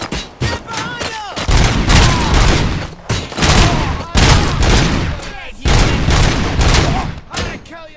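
Heavy gunfire fills a firefight in the video game Robocop: Rogue City, with loud, dense bursts of shots and booms coming in rapid waves and only short breaks between volleys, close and sustained throughout.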